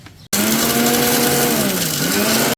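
Kitchen mixer grinder spinning garlic, cumin, sugar and salt for raw mango chutney, starting abruptly with a loud steady motor whine that dips slightly in pitch as it runs.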